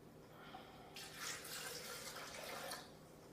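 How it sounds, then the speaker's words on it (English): Faint water pouring in a short steady stream for about two seconds into almond nog, quiet and close, with soft background hiss before and after. "then you would just add 2 cups of water"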